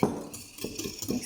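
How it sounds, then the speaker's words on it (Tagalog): Seven eggs being mixed in a bowl for a chiffon cake, heard as soft scraping and clinking of a utensil against the bowl in a few irregular strokes, close and fairly quiet. "Ngayon guys, imi-mix ko lang ang 7 egg."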